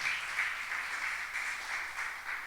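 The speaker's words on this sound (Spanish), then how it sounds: "Denle un fuerte aplauso al Señor" A church congregation applauding during a Spanish-language service, a steady wash of clapping held at a soft, distant level throughout with no voices over it.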